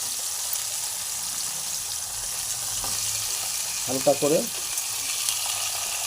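Pieces of hilsa fish fry in a pan with a steady, close sizzle that runs throughout, with a brief voice heard over it midway.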